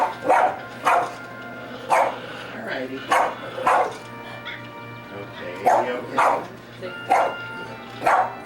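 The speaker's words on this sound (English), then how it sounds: "How'd you discover that she barks at all these animals?" A dog barks at animals on a television at home, giving about a dozen sharp yips and woofs in an irregular rhythm, close and loud, while people talk in between.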